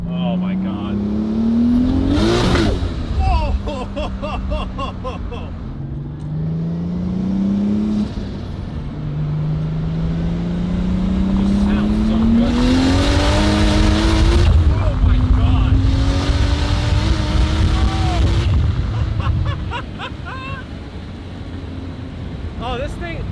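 A 2JZ-swapped BMW E30 making 800 wheel horsepower pulls hard through several gears, the engine note climbing loudly, dropping at each shift and rising again, with voices heard over the roar.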